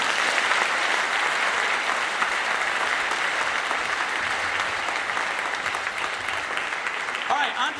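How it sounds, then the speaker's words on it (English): Sustained audience applause fills the hall at a high school band spring concert, a dense, steady wash of clapping that holds for several seconds before starting to thin near the end. "Please, a round of applause for all 3 of them."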